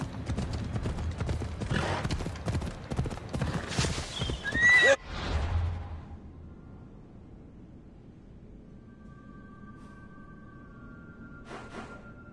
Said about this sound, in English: I need to take this horse to either Adonis or to the stable boy